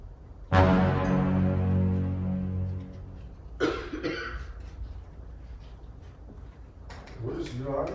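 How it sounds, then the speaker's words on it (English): A loud, harsh cough bursts out close by, followed by a couple of rougher throat noises and some muffled shuffling. "Why are you coughing?"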